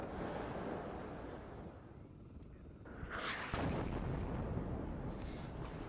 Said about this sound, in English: So yeah, we're just watching the artillery come in.